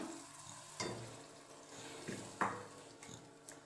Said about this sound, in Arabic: نديروا الطرف تاع الدجاج نتاعنا يتقلى مليح معاهم